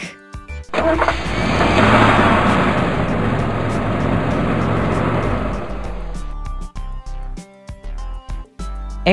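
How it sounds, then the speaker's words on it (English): A heavy vehicle engine starts up and rumbles steadily for several seconds before cheerful music takes over. "Truck."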